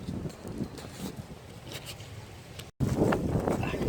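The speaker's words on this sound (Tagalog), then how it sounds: "Sobrang lakas ng hangin to." Strong seaside wind buffets the microphone in a steady low roar with rolling gusts, cutting out for a moment before surging back louder.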